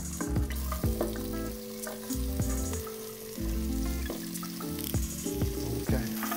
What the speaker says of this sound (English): add all of our vegetables